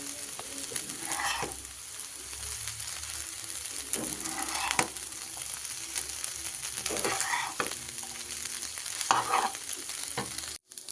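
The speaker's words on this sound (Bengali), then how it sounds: "সাবধানে করে হালকা করে আমি পাস্তার সঙ্গে সবজিগুলোকে বেশ সুন্দরভাবে মিশিয়ে দেবো" Pasta stirred together with vegetables in a frying pan, gentle sizzling under repeated scraping strokes of a utensil at irregular intervals, close and fairly quiet, no talk.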